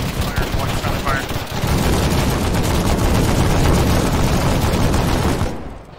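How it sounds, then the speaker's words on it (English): Loud, close gunfire from a video game, rapid shots rattling continuously for several seconds before cutting off, with voices talking under the shooting. "Fire, one shot of fire."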